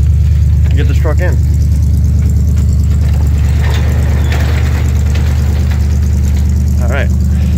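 A 1968 GMC pickup truck's engine idles steadily with a deep, even rumble that runs unbroken throughout, while someone speaks briefly near the start and again near the end.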